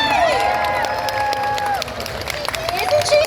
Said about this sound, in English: give a round of applause for Cherami Leigh.